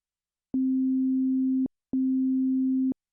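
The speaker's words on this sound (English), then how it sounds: "So what we have here is a nice clean sine wave." Two sustained pure sine tones from Ableton, each about a second long, steady and clean at one low pitch, separated by a brief silence, with small clicks where each starts and stops.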